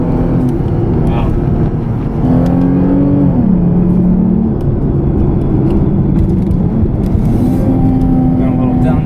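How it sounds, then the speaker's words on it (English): A 2008 Lexus IS 350 with an RR Racing tune downshifts while driving, its engine note stepping through gear changes with a steady loud drone and rising revs close inside the cabin, with light wind noise. "Got a little downshifting there."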